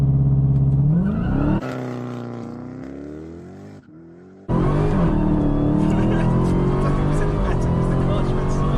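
A Dodge Demon muscle car's engine revving for a drag strip launch, loud and close, rising and falling in pitch and then surging hard, with someone talking over it.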